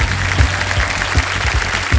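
Audience applause in a television quiz-show studio for Kaun Banega Crorepati season 16, a loud, dense wash of clapping that stays steady for the whole moment with a low thumping beat beneath it.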